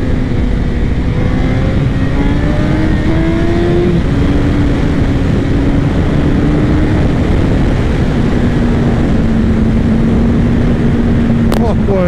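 Suzuki Hayabusa Gen 3 GSX 1300 R engine droning steadily while riding on good asphalt, a loud continuous hum with slowly shifting pitch and wind rush throughout, ending with a brief sharp click.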